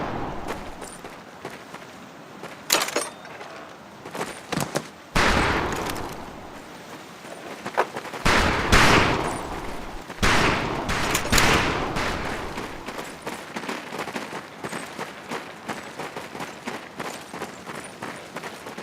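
Rifle fire on a shooting range in Medal of Honor Pacific Assault, irregular sharp shots and thumps, some loud and close, others lighter, scattered across the stretch with quieter gaps between bursts.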